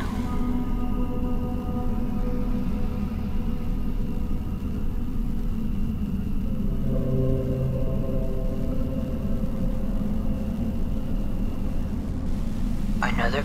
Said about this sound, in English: Another car.